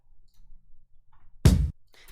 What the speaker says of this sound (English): there's like this little kick drum.